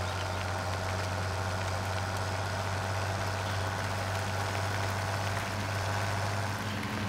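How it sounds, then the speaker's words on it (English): Tractor engine idles in the farming video game Farming Simulator 17, a steady low drone with a constant rumble, loud and unbroken throughout with no talking. "a happy tractor"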